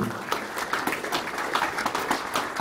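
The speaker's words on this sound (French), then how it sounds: "oui, on peut applaudir" Audience applause, a steady wash of many hands clapping throughout, moderately loud and continuous.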